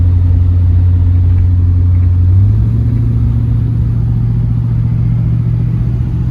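A Chevy car cruises on the road with a steady, deep engine rumble heard from inside, loud and continuous, shifting pitch slightly partway through as it changes speed.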